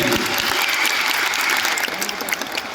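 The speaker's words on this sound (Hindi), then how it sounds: "जोरदार ताली बलजीत के लिए" Audience applause fills an award ceremony hall in Delhi, a dense, loud, steady patter of many hands clapping for a couple of seconds, tapering slightly at the end.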